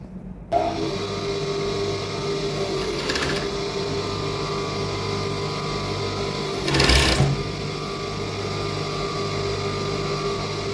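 Sewing machine stitching down cotton boxer fabric, running in a steady continuous hum throughout, close and clear, with two brief louder bursts of fabric handling partway through.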